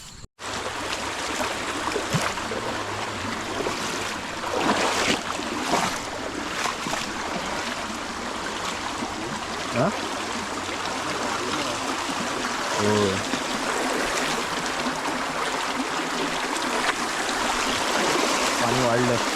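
A stream swollen after heavy rain flows steadily in a continuous rushing wash, with brief voices in the background and a few knocks near the end.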